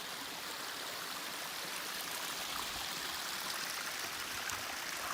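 Snowmelt water trickles and runs steadily down a mountain gully in April, a continuous close rushing stream sound with no voices.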